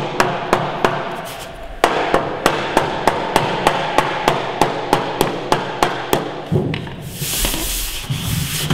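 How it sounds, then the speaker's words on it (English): A hammer strikes the corner of a wooden beehive lid in a rapid, steady series of about twenty sharp close taps, then gives way to scraping and rustling at the end. "then you just round off the corner a wee bit with a hammer"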